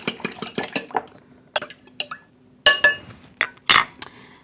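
Two eggs being broken up in a bowl for a Japanese pancake batter, with a run of sharp clinks and taps of a utensil against the bowl in quick bursts, close and clear with short pauses between.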